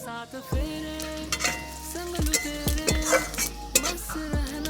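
Bay leaves and black and white cumin dropped into hot oil for a Bengali fish curry, with a faint sizzle under repeated metallic clanks of a spatula against the pan, heard close.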